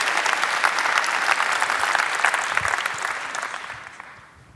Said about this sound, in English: I give everybody an applause for them.